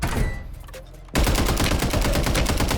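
Gunfire erupts in the video game Warzone: after about a second of quieter background with scattered shots, a loud continuous burst of rapid automatic fire takes over and carries on to the end.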